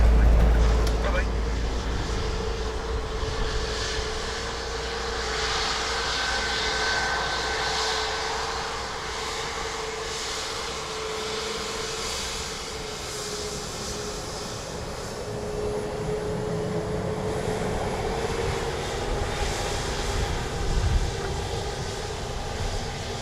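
An aircraft landing on runway 28 left at Dublin Airport, a low continuous engine rumble and rushing air from a distance, steady with slight swells, with speech faintly present.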